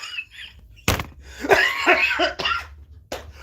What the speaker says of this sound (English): The man make me cough.